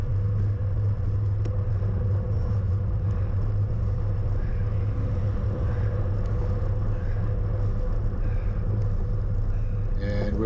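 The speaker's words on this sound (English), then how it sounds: "now I'm getting passed by the vehicle convoy" A convoy of motor vehicles passes cyclists during the Melbourne to Warrnambool road race, with a steady loud engine rumble and road roar blended with wind buffeting close by throughout.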